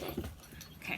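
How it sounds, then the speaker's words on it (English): A pet dog making brief soft whimpering and panting noises close by indoors, with a short spoken word over it. "Oh, there's my other dog."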